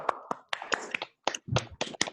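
An online meeting audience unmutes to clap, giving a sparse, uneven patter of close hand claps and taps from a few participants, clipped by brief gaps as microphones cut in and out.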